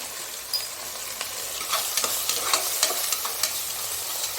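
Turmeric powder being stirred into chicken curry in a pan, heard as a soft sizzle and repeated close scrapes and taps of a spoon against the pan, quiet, with no one speaking.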